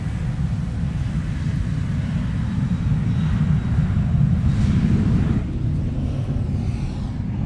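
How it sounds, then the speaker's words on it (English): Steady, loud roar of jet engines with a broad low rumble and some wind buffeting, swelling slightly midway through. "those wonderful engine noises are coming from a 737 taking off"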